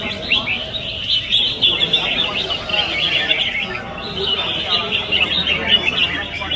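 A competition songbird calls at a bird-singing contest in Đông Triều, Quảng Ninh, repeating bright chirps and warbling phrases over constant background bird chatter from other contestants.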